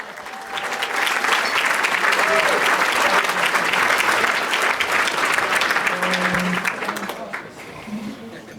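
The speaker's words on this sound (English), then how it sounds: "Ladies and gentlemen, let's give him a big round of applause" A comedy audience at a Christmas show breaks into a big round of applause, the dense clapping swelling quickly, holding loud for several seconds, then tapering off with a little chatter near the end.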